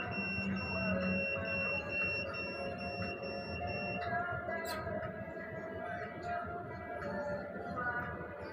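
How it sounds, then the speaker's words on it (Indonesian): Timer alarm on an operation room control panel, a steady electronic beeping tone sounding continuously over a noisy, busy room background. "ketika sudah melebihi waktu set pointnya, dia akan mengeluarkan alarm di sini"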